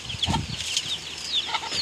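A large hen close to laying clucking in short, rapid bursts nearby, with soft chirpy calls and faint rustling in between.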